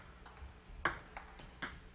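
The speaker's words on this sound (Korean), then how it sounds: "똑딱거리는 소리만이 스튜디오 T를 울려주고 있습니다." Table tennis ball struck back and forth during a long professional league rally in a TV studio, a few crisp, separate ticks spaced irregularly over low room noise.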